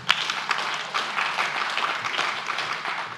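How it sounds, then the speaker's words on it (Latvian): Audience applause for the teachers during a panel discussion event, a sustained wash of many hands clapping from a moderately distant crowd, steady and even for a few seconds. "Paldies skolotājiem. Un aplausi."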